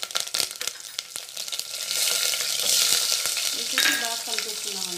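Onion hits hot oil with cumin, mustard seeds, dried red chilies and curry leaves for sambar, opening with sharp crackles and pops that swell into a loud, sustained sizzle, with stirring clatter and no talk.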